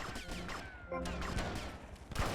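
Rapid bursts of gunfire rattle through a GTA Vice City shootout, several sharp shots firing in quick succession under a voice speaking Turkish.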